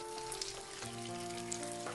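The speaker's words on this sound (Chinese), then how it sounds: "再利用五花肉的油把豆腐煎一下，中小火慢慢煎" Tofu pan-frying over medium-low heat in rendered pork belly fat, a soft continuous sizzle with light crackling pops, alone and fairly quiet.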